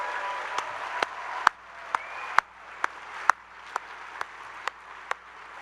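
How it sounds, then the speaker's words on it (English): Audience applause after a college event organizer is thanked at an All College Day gathering, a steady wash of many hands clapping at moderate distance, punctuated by a few sharper individual claps, with no talking over it. "a round of applause for putting together such an awesome event"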